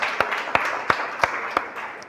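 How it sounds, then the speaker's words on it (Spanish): Church congregation applauding: a soft, scattered wash of clapping with a few sharp, regular claps standing out nearby, steady and fairly quiet. "el que lo cree, dice amén y le da un aplauso al Señor"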